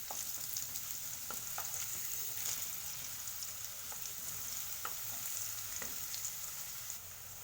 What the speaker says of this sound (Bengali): একটু এগুলো একটু লাল লাল করে ভেজে নেব।